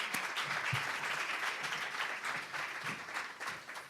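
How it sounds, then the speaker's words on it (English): Steady applause from a crowd, a dense wash of clapping that carries on throughout at moderate distance. "give me another big round of applause"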